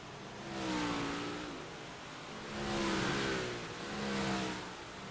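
Big block modified race cars roar through a corner at Port Royal dirt track, engines rising and falling in three loud passing surges as the pack sweeps by.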